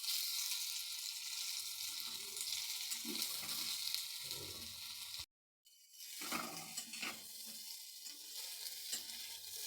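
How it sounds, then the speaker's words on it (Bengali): Soyabean chunks frying in hot oil while being stirred, a close continuous sizzle with scraping touches, broken by a brief silent gap midway before the crackling resumes. "আমি এগুলো এইভাবে ভেজে নেব, এগুলো লাল লাল করে ভেজে নিতে হবে"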